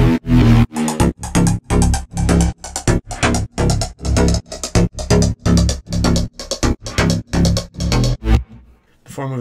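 Aggressive electronic synth leads processed with bit crushing and phaser effects, from a game theme track, play a loud, steady rhythm of short punchy stabs that stop abruptly near the end.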